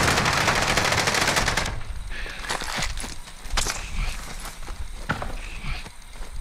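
Heavy gunfire in a shooter game: a long, loud machine-gun burst first, then scattered, echoing single shots and short bursts at varying distances.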